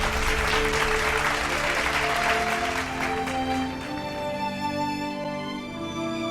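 A crowd applauds a contestant at a competition event, loud sustained clapping that fades slightly toward the end as a musical tone lingers underneath.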